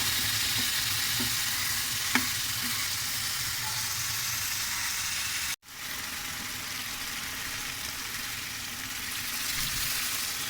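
Fish frying with cumin sizzles in a continuous, fairly faint hiss as tomatoes are added, a brief clunk partway through and the frying carrying on evenly afterward.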